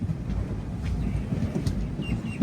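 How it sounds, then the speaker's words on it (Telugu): A Visakhapatnam–Machilipatnam Express rumbles steadily as it diverts left at a junction, a low continuous rolling of wheels on track with faint clicks, heard from inside the moving train. "మన ట్రైన్ చూడండి లెఫ్ట్కి డైవర్షన్ తీసుకుంటుంది."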